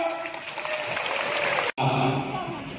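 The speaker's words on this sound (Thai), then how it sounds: "ปรบมือมาครับ" A crowd at a Palang Pracharath Party campaign rally in Mae Hong Son, Thailand, applauds steadily, with a continuous patter of clapping that cuts out briefly and resumes, and faint voices underneath.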